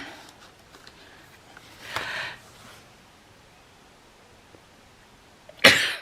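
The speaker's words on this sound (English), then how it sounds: "I'm sneezing big time." A muffled, breathy sneeze comes partway through, then after a quiet stretch a sudden loud, sharp sneeze bursts out close by.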